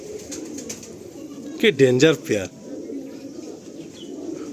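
Pigeons in a loft coo softly in a low, brief burst, close by, while someone talks over them.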